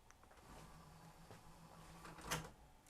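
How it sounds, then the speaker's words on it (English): A GoVideo DV2150 combination player's disc drawer closes with a low motorized whir and a soft mechanical clunk near the end, quiet and close in a room with faint background hum. "And it did close the drawer."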